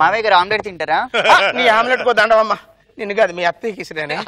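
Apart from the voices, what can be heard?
No distinct noise like a dog, phone or traffic.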